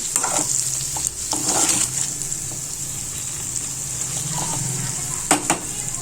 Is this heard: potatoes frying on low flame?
yes